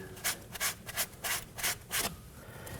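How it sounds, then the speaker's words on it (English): A rag wipes debris from the front brake line area of a 2011-2016 Kia Optima, making rhythmic close rubbing swishes, about eight quick strokes, with no talking. "now we can go ahead and just wipe off the area, make sure that it is free of debris"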